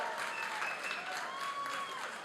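Applause at a charity auction gala fills the room after a winning bid, a steady wash of clapping from the audience, moderately distant and even, with faint voices beneath it.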